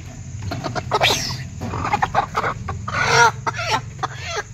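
A chicken on a buffalo farm clucks and squawks in short, uneven bursts, loud and close, with rustling and handling noises between the calls.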